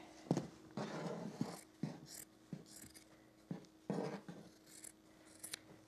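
Scissors cut fabric for an ironing board cover in a series of short crisp snips and sliding rasps, close and fairly quiet, with brief pauses between cuts.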